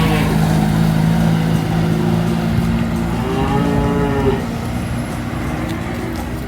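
Cattle at an Indonesian livestock market in Ambarketawang mooing in long, low calls amid a loud, busy crowd; someone talks nearby throughout, and engine rumble and market chatter fill the background.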